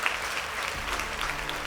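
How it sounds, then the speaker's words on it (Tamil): Audience applause at a women's achievement celebration event, a dense, steady burst of clapping from a large crowd with no voices over it. "அவங்களுக்கு மிகப்பெரிய கைத்தட்டல்களை கொடுத்துடலாம்"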